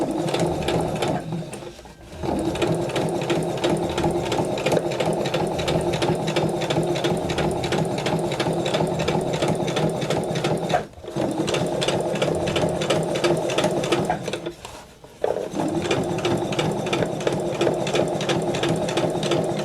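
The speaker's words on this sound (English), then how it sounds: "I have stitched all the petals into the material" A sewing machine stitches flower petals into fabric, a loud fast rhythmic whirring chatter that runs steadily with three brief pauses, close up and without talk.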